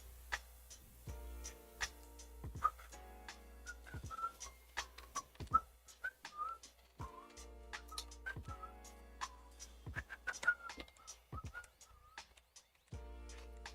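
A person tries to whistle, producing thin, wavering short tones broken up by clicks and ticks, with no steady melody, in a quiet room.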